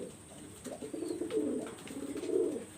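Pakistani high-flyer pigeons cooing in a coop, soft throaty rolling coos rising and falling in repeated phrases, close and quiet with no talk.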